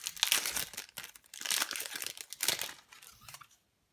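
Foil wrapper of a Pokemon trading card booster pack crinkling and tearing open up close, several loud rustling bursts over a few seconds before falling silent.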